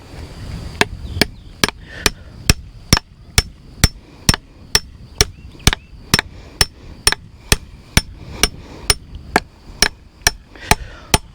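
Steady hammer blows drive a wooden fence brace post into the ground, about twenty-five sharp, evenly spaced strikes at a brisk, regular pace, loud and close with no talking.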